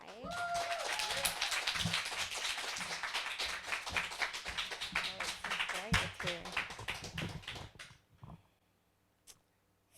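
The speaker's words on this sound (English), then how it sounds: "Let's give a big round of applause to Addie Tsai." An audience claps for poet Addie Tsai at a poetry reading. The clapping is scattered and uneven, with voices mixed in, then fades to near silence with a couple of faint taps.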